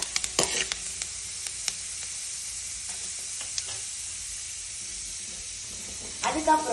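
Fennel seeds and urad dal fry in hot oil for a goat blood fry, with a loud, steady hissing sizzle, a few clinks of stirring early and a burst of scraping at the end.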